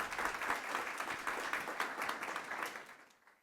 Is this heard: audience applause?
yes